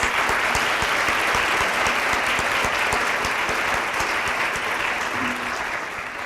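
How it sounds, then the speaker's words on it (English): A room at a chamber scholarship breakfast breaks into a round of applause for the parents and family, steady dense clapping that fades slightly toward the end. "have a round of applause for all the parents and family here today supporting their students"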